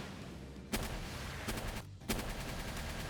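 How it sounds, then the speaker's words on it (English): Unguided rockets launched in the video game Palworld, heard as a few sharp blasts with a roaring whoosh under steady game noise, the loudest two standing well apart. "Let's send another couple of rockets their way. These ones are the unguided rockets,"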